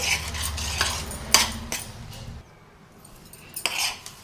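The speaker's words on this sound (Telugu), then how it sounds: "అంతా కలుపుకొని ఈ విధంగా కలుపుకొని మూత పెట్టేసి" A spoon stirs ghee into a rava mixture in a pot for ravva undrallu, giving close scraping and clinking strokes against the metal over a low sizzle, then a brief pause before more scraping.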